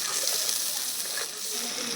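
Spice paste with turmeric, salt and water frying in a pan for a bamboo shoot dish, a steady close sizzle and hiss throughout.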